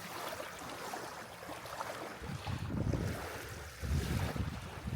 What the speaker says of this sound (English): Hopefully you can hear the waves coming in.